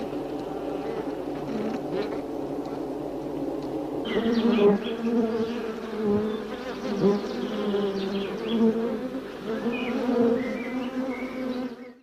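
Honey bees and honey-stealing wasps buzz at a hive, a steady droning hum that grows fuller and busier partway through, close and continuous with no talking.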